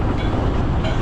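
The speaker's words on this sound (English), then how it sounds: "guy running the train" A train rumbles steadily past in a busy border town, a dense continuous low roar of rail wagons filling the whole moment with no pauses.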